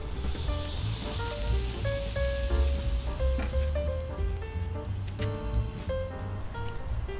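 Salmon burgers cooking on a grill over high heat give a steady hiss of sizzling that runs throughout, with tonal background sounds layered over it and no voices.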